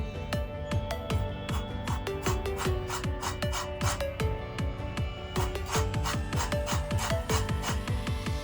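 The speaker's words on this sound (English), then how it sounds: "be careful guys when you're making the zest" An orange rind is scraped against a zester in quick, rhythmic rasping strokes, each one short and close, repeating evenly for the whole stretch with no talking.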